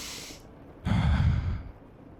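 A person breathes in and then lets out one long, audible breath close to the listener, with a brief hiss of air before it.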